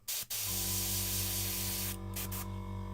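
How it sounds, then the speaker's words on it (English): An airbrush sprays thinned paint with a continuous, close hiss at about 23–24 psi, following a quick short burst, with a steady hum underneath and small dips in the spray near the end. "I'm spraying at about 23-24 pound with this."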